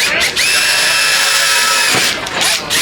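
A power drill bit bores steadily through stainless steel at a builders' trade show, a loud continuous high whine with a brief dip near the end, close to the listener and heard alone.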